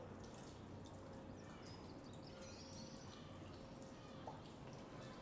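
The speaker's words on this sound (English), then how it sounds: "Dripping water." Water dripping inside a damp, dingy canal tunnel on the Leeds and Liverpool Canal, with faint scattered drips over a steady low rumble of tunnel ambience, no talking.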